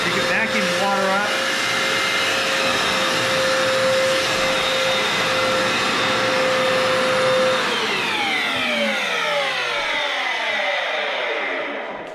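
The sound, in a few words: wet-dry floor cleaner vacuuming up water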